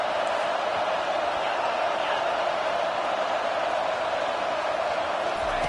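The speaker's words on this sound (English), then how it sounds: "this crowd trying to will them to get a big stop late" Steady roar of a packed stadium crowd in a college football video game, Utah against USC late in the game, a dense, constant wash of noise at even loudness with no distinct cheers.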